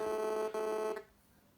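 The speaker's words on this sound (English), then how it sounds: "Sorry, my phone is buzzing." A mobile phone buzzes in a short burst, a faint rasping tonal vibration lasting about a second with a brief break in the middle, then fading out into quiet.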